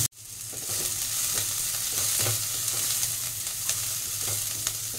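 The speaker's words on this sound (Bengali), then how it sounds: "আমি পেঁয়াজ আদা রসুনটা একটু ভাজা ভাজা করে নিয়েছি।" Onion, ginger and garlic frying in a pan, a steady close sizzle with soft stirring scrapes throughout, no talking.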